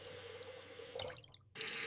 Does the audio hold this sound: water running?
yes